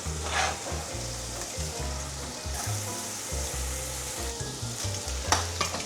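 Onions fry in oil in a home kitchen, a steady close sizzle with bursts of stirring and scraping throughout, no voices.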